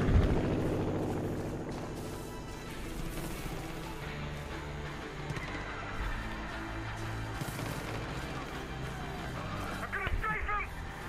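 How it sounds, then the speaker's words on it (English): Helicopter in the video game Far Cry 5, a steady rotor drone running throughout at moderate loudness, with gameplay sounds mixed in and players talking over it. "Oh, cool, a helicopter"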